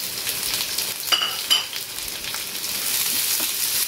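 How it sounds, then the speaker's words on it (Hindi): Onions frying in a hot pan, a loud steady sizzle heard up close, with a couple of brief stirring scrapes and clinks of a utensil early on and no talking. "अनियंस को हम बहुत अच्छे से भूनेंगे, एकदम अच्छे ब्राउन होने तक भून लेंगे।"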